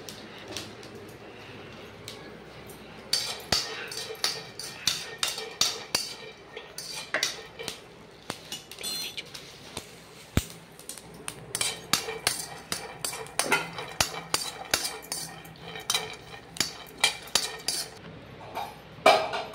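Kitchen utensil clatter while chutney is made for bonda: repeated sharp metallic clinks and knocks of pots, spoons and dishes, close and irregular, continuing throughout with no talking.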